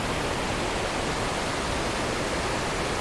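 Roar of a river waterfall where a second channel drops from above into the main stream, a steady, dense broadband rush that fills the whole clip without pause, with no voices.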